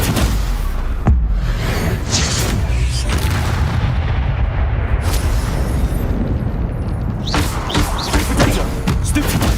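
Repeated blasting spell explosions from the Hogwarts Legacy video game, loud booming bursts and thuds in a dense, continuous stream of combat noise, with heavier blasts near the start and toward the end.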